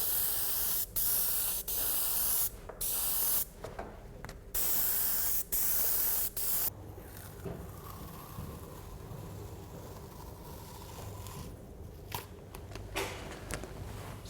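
Aerosol spray paint hisses through a lifting stencil onto a painting in repeated bursts of varying length, loud and close, followed by quieter handling and rustling with a few short spray puffs near the end.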